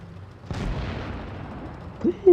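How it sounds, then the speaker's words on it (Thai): A tank explodes in the mobile game World of Tanks Blitz, one sudden deep boom that decays over about a second and a half, followed by brief voice sounds. "ระเบิดต่อหน้าต่อตาถอยเลย"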